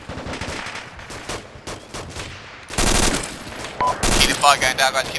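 Automatic and rifle gunfire in Arma 2, bursts of close, loud shots that swell into heavy sustained fire partway through, with voices in the background.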